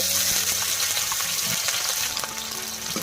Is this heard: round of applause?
no